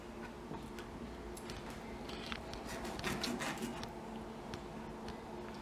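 Scissors snipping the side fins off a raw pomfret fish while cleaning it, a close, quiet run of small clicking cuts and rasping scrapes, a little busier in the middle, with no talking.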